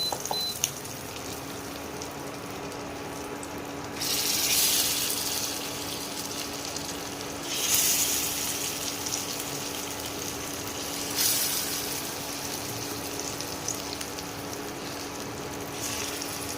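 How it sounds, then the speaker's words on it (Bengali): Chicken shami kebabs frying in hot oil give a steady, close hiss of sizzling, with slightly louder bursts every few seconds and no talking. "এইভাবে লাল লাল করে কাবাবগুলোকে ভেজে নেব।"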